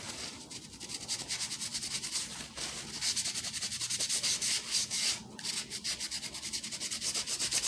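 Steady close rubbing and scrubbing of excess paper clay off a Christmas ornament, a continuous dry abrasive swishing with brief pauses, no talking.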